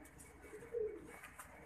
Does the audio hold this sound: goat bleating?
no